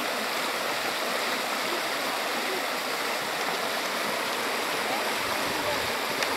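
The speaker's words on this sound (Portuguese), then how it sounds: "Tem uma aguinha correndo aqui" A small stream runs through brushy countryside with a constant, even rush and babble of water, close and steady throughout.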